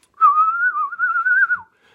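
Someone gives a clear, sustained, slightly wavering whistle of about a second and a half, imitating Yondu's arrow-controlling whistle from Guardians of the Galaxy, alone against silence.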